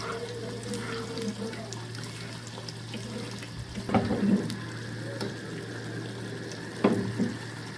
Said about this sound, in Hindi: ज़ीरा हमारा तड़क चुका है